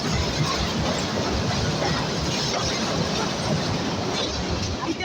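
A passenger train, the Silk City Express, runs steadily on its rails toward the Jamuna railway bridge after leaving Shahid Mansur Ali station, a dense continuous rumble and rattle of wheels and carriages heard close from inside, with no pauses.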